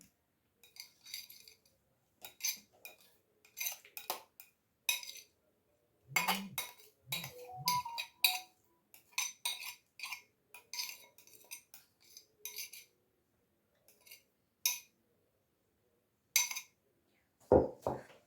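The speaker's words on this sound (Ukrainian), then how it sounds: "Так само ножем підважую." A knife prying pieces of mosaic cake out of a dish: scattered clinks and scrapes of metal against the dish, separate taps and short scraping strokes with quiet gaps, close and fairly soft.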